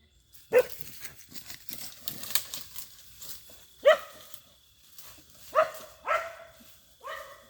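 A dog barks several times at a distance, single sharp barks spaced a second or two apart, with faint rustling between them.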